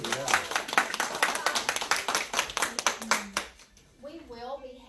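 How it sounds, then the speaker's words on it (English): An audience at the Think Pink 2022 Poodles on Parade artists reception claps loudly in a dense burst lasting a few seconds. The clapping dies away and a voice begins talking. "So we do want to give you a round of applause."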